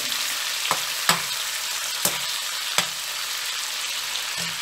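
Prawns fry in a pan for a biryani, a steady bright sizzle close by, broken by a few sharp clicks and scrapes of a utensil, with no talk.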